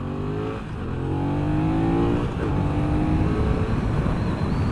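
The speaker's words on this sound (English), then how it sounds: "Doesn't rev quite as fast as I would have kind of expected it to" A 2020 BMW F 900 R motorcycle engine revs repeatedly, loud and close, climbing in pitch with each throttle blip before settling back into a rough, rumbling idle.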